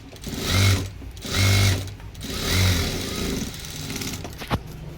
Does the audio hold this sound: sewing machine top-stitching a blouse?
yes